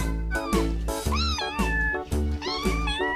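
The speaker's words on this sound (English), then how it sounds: "C for cat." A cat meows several times in quick succession, loud and close, with bright rising and falling calls over a rhythmic backing beat.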